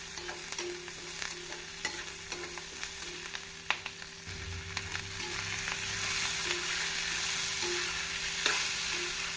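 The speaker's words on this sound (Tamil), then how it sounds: "வெங்காயம் நன்கு வதங்கவும் நாம் நறுக்கிய கோவைக்காயை சேர்த்து விடலாம்." Onions and ivy gourd (kovakkai) sizzle and get stirred in a pan for a poriyal, a steady frying hiss broken by scraping spatula strokes and a few sharp clinks of utensil on metal.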